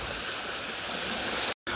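A waterfall spills into a children's pool at a five-star beach hotel in Phuket, a steady close rushing splash that fills the whole clip before cutting out briefly near the end and resuming.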